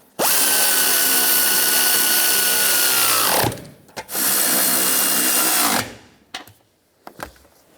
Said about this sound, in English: And tighten the nuts down.